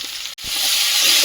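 Cumin and beans sizzle in a hot wok with ground cumin and turmeric, a loud, steady frying hiss with one brief dip before it resumes evenly.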